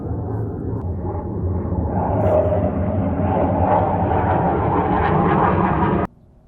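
Military jet aircraft passing overhead, a loud sustained roaring rumble that swells and then cuts off abruptly.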